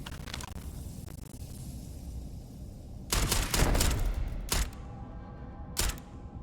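Gunfire in the video game Starfield, a cluster of rapid, sharp shots after a quieter stretch, then two more isolated bursts spaced apart.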